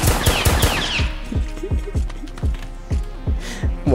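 Rapid bursts of automatic gunfire from a gun in a Roblox hood video game, a dense opening volley followed by spaced single shots and short strings, loud and close over a low steady hum.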